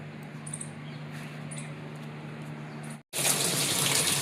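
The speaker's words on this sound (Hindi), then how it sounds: "तो मैंने यहाँ पर मशीन में पानी डालना शुरू कर दिया है।" Water runs steadily into a washing machine as it fills for a load of laundry, a continuous broadband gush with a low hum beneath, briefly cutting out before returning louder and closer.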